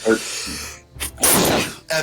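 A single sharp sneeze bursts out near the middle, framed by brief murmurs of nearby voices before and after.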